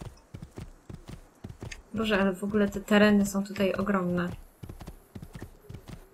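Horse hooves clip-clopping at a steady walking rhythm in the video game Assassin's Creed II, crisp and regular throughout, with someone speaking over the middle stretch.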